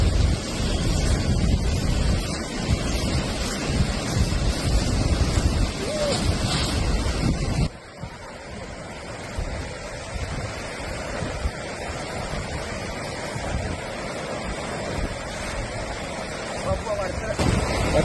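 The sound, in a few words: flowing river water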